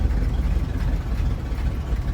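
A 1977 Dodge Power Wagon plow truck runs with a loud, low, rumbling engine and exhaust drone, steady and close for the whole moment.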